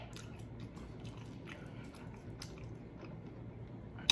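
Someone chews Wingstop mango habanero chicken wings up close, with soft wet bites and chewing over a low background, faint and steady, then a brief sharper sound at the end, no talking.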